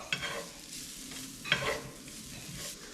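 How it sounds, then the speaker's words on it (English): Ingredients sautéed together in a pan outdoors, a soft steady sizzle with a couple of brief stirring scrapes, close but quiet. "what you really want to do is get a nice saute of all those together"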